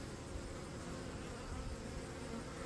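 Honey bees buzz steadily around a hive made of stacked deep boxes, the insects building comb; a dense, continuous hum fills the whole stretch without pause, fairly faint and with no voices.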